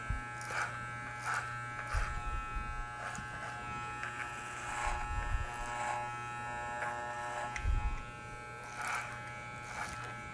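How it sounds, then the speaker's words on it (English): An electric hair clipper buzzes steadily through a men's haircut using the clipper-over-comb technique, a constant close hum with repeated short snips and brushing strokes as the clipper follows the comb, with no talking. "On this side, I will use clipper over comb technique, a little bit more advanced technique."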